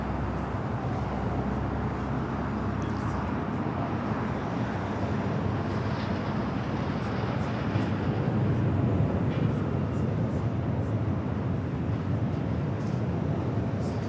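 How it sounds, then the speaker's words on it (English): A Lufthansa Boeing 747-8 Intercontinental takes off at LAX, its jet engines producing a broad, steady rumbling roar at moderate distance that swells slightly midway, with no talk over it. "This is Lufthansa 457 taking off to Frankfurt on the 747-8 Intercontinental Yankee Sierra."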